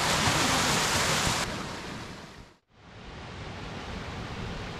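A waterfall and running water at a forest campsite along the Timberline Trail give a loud, steady broadband rush that briefly drops out midway before resuming; no one speaks.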